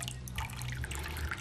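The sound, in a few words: rinsing copper wire with a squirt of distilled water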